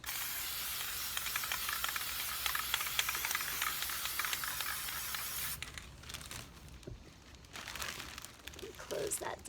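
An aerosol can of spray paint hisses onto an aquatint plate laid over newsprint in a printmaking studio, a close, continuous spray that stops partway through and gives way to faint rustling and handling noises.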